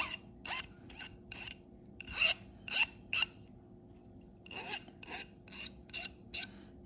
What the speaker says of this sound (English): When you melted your copper, sometimes it could be very pointy and you can scratch stuff. You need to use your file.